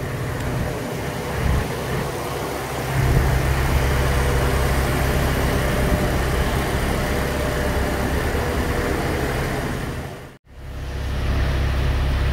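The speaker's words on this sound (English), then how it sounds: "It's idling and warming up a little bit after a long cool down session." A stock Honda H22a engine idles on a dyno while warming up after cooling down, a steady low rumble with a constant hum and one brief dropout near the end.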